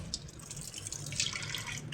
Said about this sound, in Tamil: நாசிக்கு தண்ணி செலுத்தி கையை கழுவுறது, அதுக்கு பின்னால் மூஞ்ச கழுவுறது.